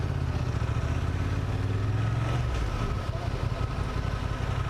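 A Honda Transalp motorcycle engine idles with a steady low rumble and light mechanical clatter, close and continuous throughout, with a low-mounted exhaust.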